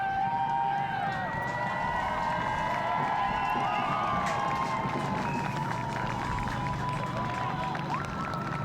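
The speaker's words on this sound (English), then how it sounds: "Nice round of applause for Megan Carlson." A large crowd at a state girls soccer quarterfinal, Stillwater versus Champlin Park, keeps up steady applause and cheering that fills the whole stretch, with shouts rising over the continuous clapping.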